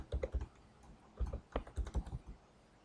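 Someone types a password on a computer keyboard to log into a Windows XP machine: short irregular bursts of close, crisp keystrokes separated by brief pauses.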